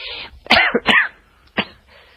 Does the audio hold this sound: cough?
yes